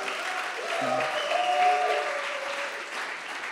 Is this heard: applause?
yes